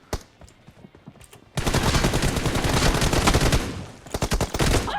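Sustained automatic gunfire in the mobile battle royale game PUBG Mobile, loud and dense, starting after a few scattered shots and running in a rapid stream with brief breaks.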